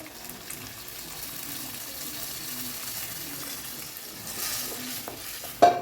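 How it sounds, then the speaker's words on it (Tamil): Water poured from cooked dal into a pot of drumstick sambar, a soft continuous splashing and sizzling that holds steady at moderate level, then ends with a short sharp clink. "இப்போது நான் இந்த பருப்பு தண்ணியில் இருக்க தண்ணியை மட்டும் ஊற்றிக்கிறேங்க"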